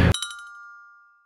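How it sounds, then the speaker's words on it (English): A small bell chimes once in a digital LED number art installation. A bright metallic strike is followed by a clear ringing tone that fades slowly over about a second. "little bells that went off as each LED number lit up the screen"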